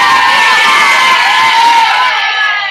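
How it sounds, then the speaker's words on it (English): Schoolchildren in a class cheer and whoop together, a loud, dense crowd of young voices shouting for about three seconds before cutting off abruptly. "Let's give them a round of applause."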